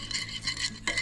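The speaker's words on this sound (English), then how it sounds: "Now I'm gonna mix up a quick binder, guys, for the fish" A spoon stirs a quick fish binder of mayo and Tapatio hot sauce in a bowl, a short run of soft, wet scraping and clinking strokes heard close and alone.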